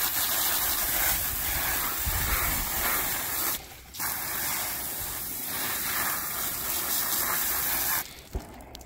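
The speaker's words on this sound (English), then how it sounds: "So all you do is get you a sprayer hose and just make sure you get the front," Sprayer hose blasting water onto skinned rabbit meat, a loud continuous hiss and gush close by, with a brief pause in the middle and another break near the end.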